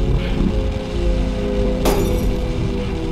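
A ceiling light shatters overhead in a Backrooms video game, a single sharp crack of breaking glass cutting through a steady low electrical hum, close and loud, with no talking.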